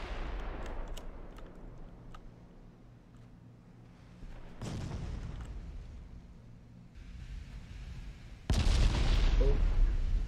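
Small 2-inch naval guns fire in Ultimate Admiral: Dreadnoughts, with scattered sharp reports early and a couple of heavier booming blasts around the middle and near the end, over a low rumbling background.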